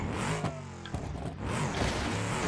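A custom-built truck in a driving video game revs its engine, a loud, continuous growl that rises and falls with throttle changes, with no speech over it.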